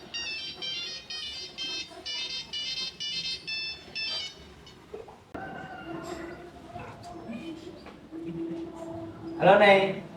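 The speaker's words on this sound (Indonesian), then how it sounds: "Coba deh telepon Tata" A phone ringtone plays in a repeating electronic pattern for about five seconds, followed by room sounds and background movement as a call is placed.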